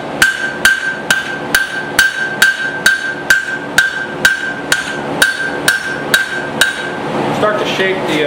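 A hammer strikes hot steel while a tiny hammer is forged, about fifteen sharp, ringing blows in a steady rhythm at close range, each followed by a bright metallic ring, with a short scuffling pause near the end.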